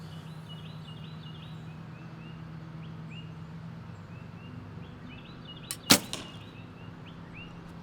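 An arrow with Brady vanes leaves a bow fitted with a Beiter plunger carrying a DIY metal tip: one sharp release crack followed by a brief airy shh, set against steady outdoor ambience with faint bird calls.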